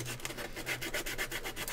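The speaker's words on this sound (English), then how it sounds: "Not doing much sanding, per se. I'm just roughing up the surface" Sandpaper rubs over a plastic surface to rough it up, a quiet, rapid back-and-forth scratching in short, even strokes.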